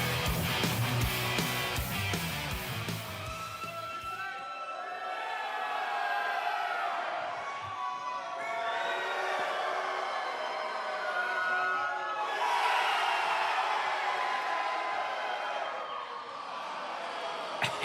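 A crowd in a wrestling arena cheers and roars during an Xplosion tag match, a dense wash of voices that swells and ebbs in waves, loudest at the start and again near the end.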